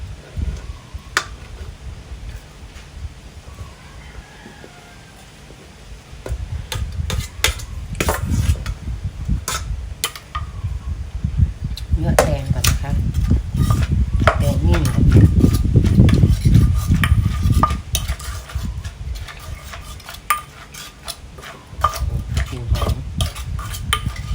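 Green papaya being pounded and stirred in a mortar for a Thai papaya salad: a busy, continuous run of knocks and scrapes that swells louder midway, with a voice speaking over the work.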